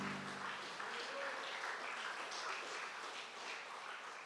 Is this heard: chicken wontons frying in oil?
no